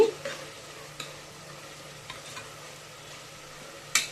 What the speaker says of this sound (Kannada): ಆಯಿಲ್ ಹೇಗೆ ಬಿಟ್ಕೊಟ್ಟು ಮಸಾಲೆ ಎಲ್ಲ ಫ್ರೈ ಆಗಿ ಮಸಾಲೆ ಎಲ್ಲ ಆಯಿಲ್ ಬಿಡಬೇಕು